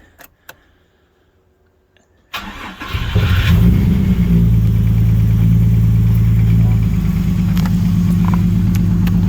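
A car engine freshly swapped to an Ecotec cranks and catches after a few faint clicks, then settles into a loud, rough, uneven idle close by, missing on a couple of cylinders.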